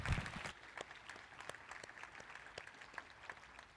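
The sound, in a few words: audience applause at a conference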